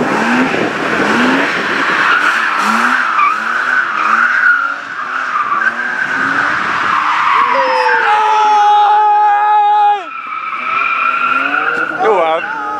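BMW racing car on a hill-climb slalom course in 2021, its engine revving hard and rising through gears close by, with tire squeal and skidding and spectators talking over it.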